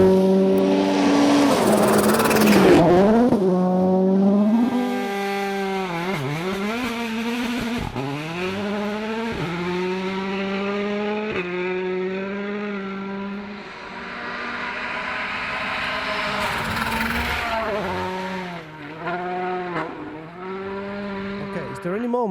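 In-car sound of a rally car on a gravel stage during 2013 Rally Finland testing: a loud, close engine rising and falling through rapid revs and gear changes, with a harsh rumble beneath, and no outside voices.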